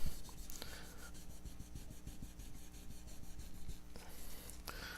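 A cloth rubs Tru-oil finish into the fretboard of a custom black limba Strat neck, making quiet, steady back-and-forth scrubbing strokes close up.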